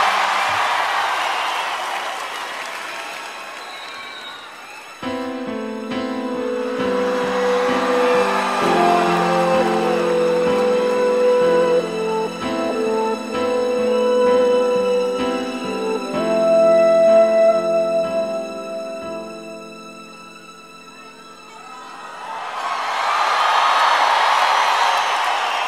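A large live concert crowd at a show in 2007 cheers and roars, swelling loud at the start and again at the end, while a band plays sustained music in between.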